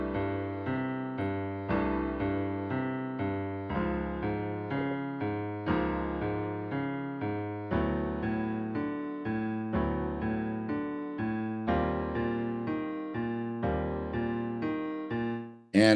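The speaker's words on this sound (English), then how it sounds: "These are just chromatic major chords going up the scale," Piano plays a run of major chords climbing chromatically in a jazz piano voicing exercise, about fifteen evenly spaced struck chords ringing with sustain, close and clear with no talking, ending abruptly.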